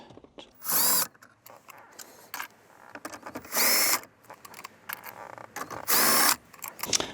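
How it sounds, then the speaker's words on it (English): Three loud bursts of a power tool whirring as it removes a bolt from a 2022 Subaru WRX, each about a second long, separated by clinks and rattles of metal parts. "then we'll use our power tool to remove the bolt."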